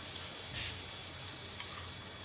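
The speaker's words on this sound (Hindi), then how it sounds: "व्यूवर्स, अब हम इसको फ्राई करेंगे। ये मैं आपके सामने डाल रही हूँ" Marinated Dhaka-style chicken, marinated an hour with vinegar, frying in oil makes a quiet, even sizzle with a few sharp pops and ticks scattered through it, and nobody talks.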